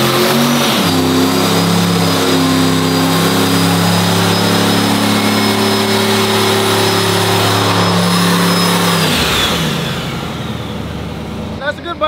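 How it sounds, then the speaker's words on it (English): A turbocharged single-cab GMC truck does a burnout inside a shop, its engine held at a loud, steady high rev for several seconds before dropping off and winding down. "we're about to do a burnout for Oscar because he wants a burnout inside the shop"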